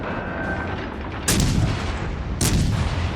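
Naval guns fire in the World of Warships Legends video game, two heavy booming salvos about a second apart, each with a sharp crack and a rumbling tail over constant background engine and sea noise.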